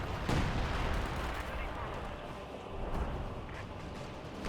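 Mortar and gunfire from a Company of Heroes 2 battle, with dense, continuous booming thuds and crackling shots rolling under a commentator's voice, a sharp blast near the start and another around three seconds.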